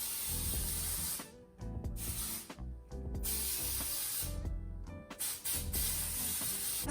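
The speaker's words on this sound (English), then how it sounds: "I'm just gonna use some of this Ouidad rejuvenating dry oil mist" Dry oil mist pumped onto curled natural hair, a few close, hissing spray bursts separated by short pauses.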